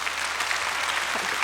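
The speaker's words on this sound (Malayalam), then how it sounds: "നല്ലതാണെങ്കിൽ കയ്യടി" Studio audience at a comedy show clapping, a dense, steady burst of applause filling the whole moment.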